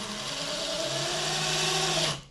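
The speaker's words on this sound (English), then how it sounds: "while you have this thing chucked in the drill, you take advantage of that power. So you spin it" A power drill spins a chamfer and deburr tool against brass cartridge cases, giving a steady, close, continuous whirring grind with a scraping edge that holds for about two seconds and then stops abruptly.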